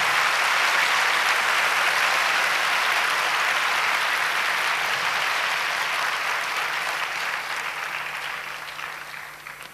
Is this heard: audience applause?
yes